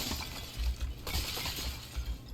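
Vases shatter in Dragon Age: The Veilguard, a quiet run of crunching, splintering breaks with brief clinking debris, several impacts in quick succession and no voices.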